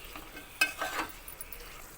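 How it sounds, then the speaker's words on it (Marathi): Chicken is stirred in a pan as its water cooks off, giving a faint soft sizzle broken by a few short scraping stirs near the middle. "या चिकनचं पाणी पूर्ण आटेपर्यंत परतवून घ्यायचं."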